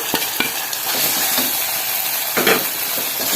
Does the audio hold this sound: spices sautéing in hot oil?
yes